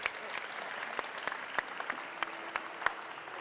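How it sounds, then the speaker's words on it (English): Steady applause from an audience at a startup event, many hands clapping together with a few sharper claps standing out, sustained throughout. "Big applause."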